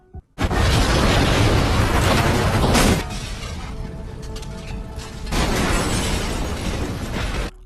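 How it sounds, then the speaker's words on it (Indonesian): A loud explosive blast bursts out and roars for a few seconds, followed by a quieter rumbling debris-like tail and a second swell of heavy noise. "terdengarlah bunyi ledakan boom"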